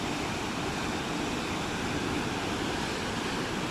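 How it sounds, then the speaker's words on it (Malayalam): Water pours steadily from the outlet of the Chimmini dam, leftover flow from power generation. It makes a continuous, even, rushing roar heard from a distance, with no voices. "അവിടെ അങ്ങനെ വെള്ളം വീഴുന്ന കാണാം. ഇത് കറണ്ട് ജനറേറ്റ് ചെയ്തിട്ട് വരുന്ന ബാക്കി വെള്ളമായിരിക്കാം."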